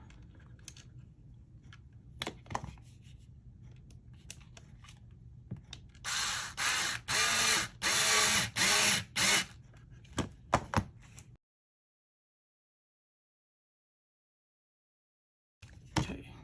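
Screws are driven into plastic suspension arms of a Tamiya MF-01X Ford Escort Mk.II rally kit, heard as a run of close, bursty grinding and squeaking twists between small clicks and handling taps, ending in silence.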